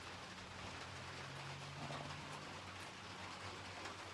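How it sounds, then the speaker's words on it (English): Heavy rain drums on a hunting box blind, a dense steady hiss of drops with a low rumbling undertone, continuous and fairly quiet, with no voices. "it's raining pretty heavy"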